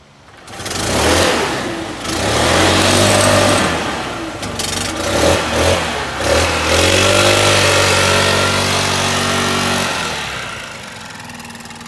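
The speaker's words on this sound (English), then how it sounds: "So next is the blower." A Stihl leaf blower's petrol engine starts, revs up to a loud steady roar, then settles toward a low idle, heard up close with no talk.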